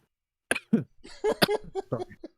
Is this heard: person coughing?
yes